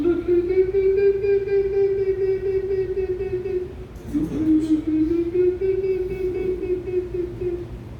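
A voice imitates the kokila's (Indian koel's) best-known song with a long, sustained hum-like vocal tone that wavers slightly, briefly breaks midway, then carries on steadily and close.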